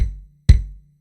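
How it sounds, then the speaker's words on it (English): Two deep, booming kick drum hits sound about half a second apart, each with a punchy attack and short decay, alone with no talking. "This is the sound of kick drum."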